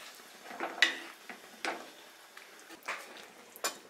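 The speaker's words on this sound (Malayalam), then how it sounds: "നന്നായിട്ടൊന്ന് ഇളക്കാം." A spoon scrapes and knocks against a pot while Kerala-style chicken curry masala is stirred, making several distinct clinks and scrapes in an irregular rhythm, close and moderately loud with no talking.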